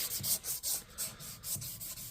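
Hand sanding a tool handle with a sandpaper strip, rhythmic back-and-forth rasping strokes, about seven passes of sandpaper scraping against wood, close and clear.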